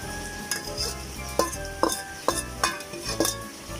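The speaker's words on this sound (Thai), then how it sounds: "เราก็ผสมให้เข้ากันค่ะ ผสมดินกับกากมะพร้าวนะคะ" Hands or a tool mix potting soil with coconut coir for a money-tree plant, giving rhythmic scraping, gritty rustles in regular strokes about every half second, close and steady.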